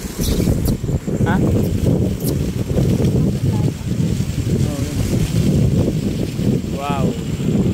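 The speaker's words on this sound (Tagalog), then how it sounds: "Napakalakas ng hangin" Strong wind buffets the microphone in loud, gusty rumbles on the rooftop of SM Aura while people talk over it.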